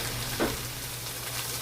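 Grated coconut drops into a sizzling pan, a brief crackling burst over a steady low frying hiss and hum, close by with no talking.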